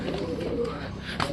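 Fancy lotan pigeons coo softly in a brief, low, murmuring burst with a slight rise at the end, heard close and steady over faint background noise.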